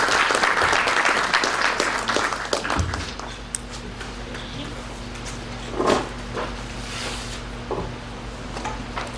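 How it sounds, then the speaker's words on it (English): Audience applause for a presenter at a talk, a dense burst of clapping that tapers off after about three seconds into room hum, scattered knocks and a low steady tone. "Ladies and gentlemen, give a round of applause to Roseanne."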